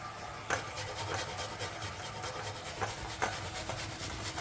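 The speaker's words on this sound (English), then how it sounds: "I'm gonna go ahead and start grating my potatoes and everything" Potatoes rubbed against a hand grater for duckunoo, a steady close scraping rasp with occasional sharper strokes, continuous and without any talking.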